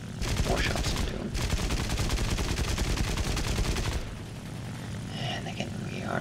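A new Japanese heavy fighter's aircraft guns in War Thunder fire a long, loud, continuous burst over engine drone, then stop, leaving the engine hum and a few faint later sounds.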